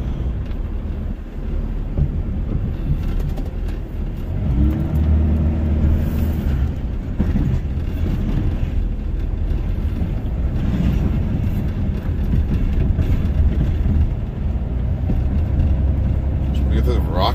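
A Dodge Ram pickup with a Cummins diesel plowing a cold light snow: a continuous, loud, low engine drone with shifting rumble and scraping texture, heard from inside the truck.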